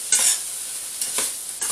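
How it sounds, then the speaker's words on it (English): Chicken, bacon and vegetables sizzle steadily in a hot pan, with stirring scrapes every half second or so, close and alone with no talking. "Just going to let that carry on frying for a while."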